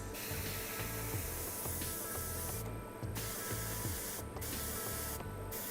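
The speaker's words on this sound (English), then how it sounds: "And as you can see, I spray my color to the back part, as I do for the green part." Airbrush spraying paint onto a Warhammer 30k Horus Heresy Rhino vehicle model for the Sons of Horus, a steady close hiss with a mechanical whir underneath and brief breaks as the trigger releases.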